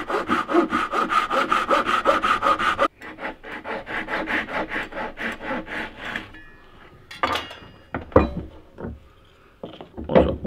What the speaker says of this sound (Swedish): När jag nu sågar så är det viktigt att jag håller mig på utsidan om strecket.